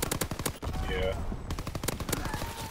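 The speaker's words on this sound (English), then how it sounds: "He's got a fucking bar with rapid fire on it." BAR firing rapid-fire bursts in a video game, a fast rattling string of loud, close shots that breaks briefly, then resumes in quick repeated cracks.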